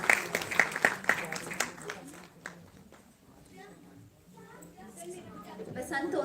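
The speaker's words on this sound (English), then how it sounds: "Big round of applause, please." Audience clapping at a Basant Utsav live event in Chandigarh, a brief burst of applause that fades within about two seconds, followed by quieter murmuring and talk.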